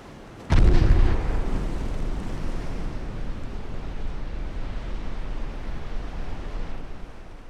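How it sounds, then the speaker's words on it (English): Torpedo hits striking warships in an 1892-era naval battle game: a sudden heavy blast with a deep booming onset, then a long rumbling, surf-like roar that holds steady and loud until the end. "That was a lot of torpedo hits."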